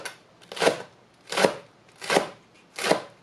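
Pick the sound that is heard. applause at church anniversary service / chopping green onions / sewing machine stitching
chopping green onions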